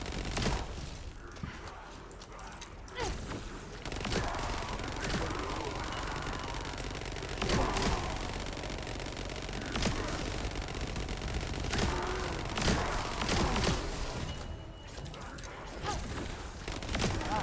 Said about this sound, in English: Submachine guns, kind of like beam rifles,